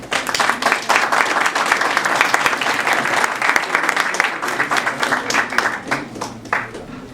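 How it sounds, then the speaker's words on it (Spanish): An audience applauds an invited speaker at a lecture, a loud, dense burst of clapping that continues steadily for several seconds and thins slightly toward the end. "recibamos con un fuerte aplauso al doctor Más Canales"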